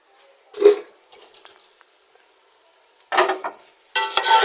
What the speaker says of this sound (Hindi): अब हम इसको भूनेंगे मसाले में डाल के